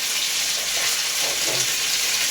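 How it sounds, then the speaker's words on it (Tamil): Fish pieces frying in hot oil in a pan for a green-masala fish fry, giving a steady, even sizzle throughout with no voices. "இப்போ மீனை பூரா நல்லா பொரிச்சாச்சு."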